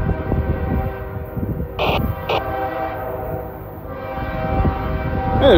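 A train rumbles past close by while its horn sounds two short blasts, the steady mechanical roar continuing underneath.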